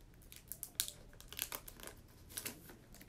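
The foil wrapper of a Pokémon trading card pack crinkles and crackles in someone's hands, with irregular close-up rustles and small sharp crunches throughout.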